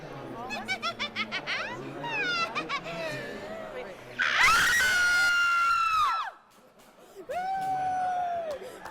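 A woman lets out a loud, sustained scream at an event tied to The Evil Dead, following a stretch of laughter and chatter from a crowd. The scream breaks off abruptly, and a shorter cry comes after it.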